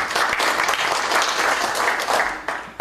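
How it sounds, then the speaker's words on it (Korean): Steady applause from an audience at a private university presidents' summit in Korea, welcoming the president of Soongsil University to the stage; dense, continuous clapping filling the whole moment without speech. "박수로 환영해 주십시오."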